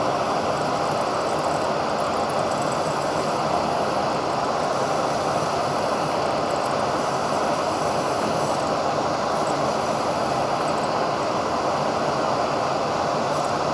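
A lathe spins at about 1,200 RPM while drilling a fountain pen blank, giving a loud, steady, unbroken whirring roar that holds even from start to finish, with no voices.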